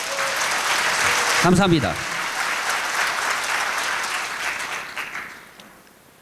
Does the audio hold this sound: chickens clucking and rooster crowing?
no